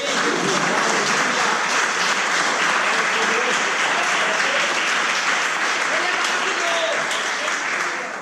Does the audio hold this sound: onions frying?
no